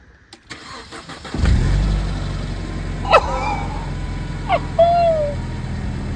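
A Mercedes SLK 200 engine cranks and catches on its first startup after being seized, then settles into a steady, rumbling idle close by, with a couple of faint chirps over it.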